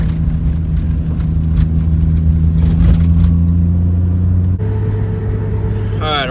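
A boosted car drives along a rough road, its engine droning steadily up close while the cabin rumbles and rattles over bumps; a voice speaks over the noise.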